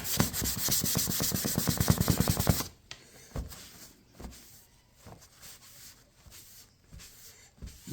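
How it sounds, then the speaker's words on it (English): Dry sanding across rattle-can paint on a Jaguar X-type gives fast rhythmic rasping strokes for about two and a half seconds, then fades to scattered faint rubs and taps. "Let's dry sand."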